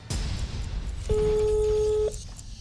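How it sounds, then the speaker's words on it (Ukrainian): A telephone tone sounds while an inspector calls a doctor in Kalush: a soft click, then one steady, clear beep lasting about a second before it cuts off, with no talking. "Ми зараз йому телефонуємо."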